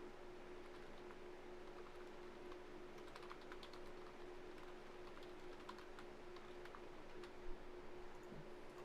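Steady, light clicking of keys on a computer keyboard, continuous and close, typing at an even pace over a quiet background hum with no voices.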